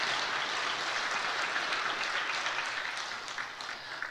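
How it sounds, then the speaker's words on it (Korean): A church congregation gives a celebratory round of applause during a Sunday service, full, steady clapping from many hands that thins slightly toward the end. "축하의 박수 한번 드리겠습니다."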